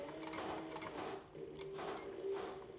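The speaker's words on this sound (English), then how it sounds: "As we stitch, we remove clips and work our way around and get her done." A sewing machine runs steadily, stitching the layers of a canteen purse together as the work is turned around its edge. The motor hum is close and continuous, with only brief dips in speed.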